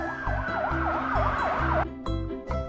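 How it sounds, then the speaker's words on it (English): Police car siren wailing in a rapid rising-and-falling yelp, close and loud, from a toy surprise-egg vehicle, cutting off into short honk-like bursts at the end. "Wow! It's blue police car."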